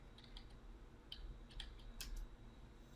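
Quiet, close typing on a computer keyboard, a few quick light key clicks in small clusters over a low steady hum.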